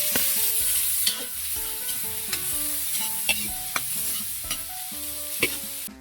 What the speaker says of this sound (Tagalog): Gigisa naman tayo. Tayo mantika. Tayo ng bawang, sibuyas, at kamatis.